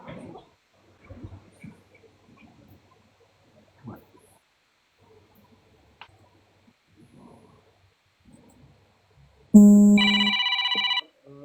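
A telephone rings once, loud and electronic, for about a second and a half. Before it there is a near-silent stretch of faint breathing and small rustles.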